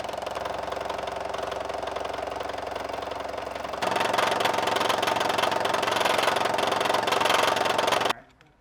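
A milling machine cutting a car trim part runs with a steady mechanical chatter and hum, growing louder and harsher partway through as the cut engages, then stopping abruptly at the end.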